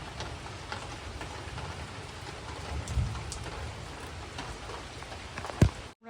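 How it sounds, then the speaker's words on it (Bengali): Heavy rain pours down steadily, a dense even hiss with a couple of dull low thumps, no talking. "বাইরে কিরকম মুষলধারে বৃষ্টি পড়ছে।"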